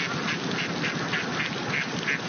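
A flock of ducks crossing a road on their way to a river, quacking in a continuous overlapping chorus with regular bursts that rise and fall at steady volume.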